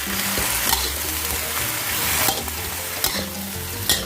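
Bean sprouts stir-fried in a pan with oyster sauce, a loud steady sizzle broken by sharp scrapes and clacks of the spatula tossing the vegetables, with no talking.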